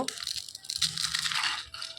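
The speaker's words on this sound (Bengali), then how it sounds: "এবার ভাজা বড়িগুলো আঙুলের সাহায্যে ভেঙে নেব।" Fried lentil dumplings (bori) are crushed by hand, giving a brief close crisp crunching and crackling that lasts a couple of seconds.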